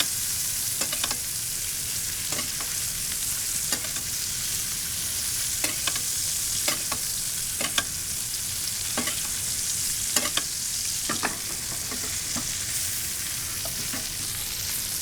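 Steaks sear in a pan with garlic butter, a steady loud sizzle broken by sharp clicks and scrapes of stirring or basting throughout, with no voices.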